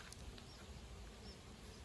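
A faint, steady hum of bees flying around a swarm in a hollow tree, distant and low against an outdoor background, with no voices.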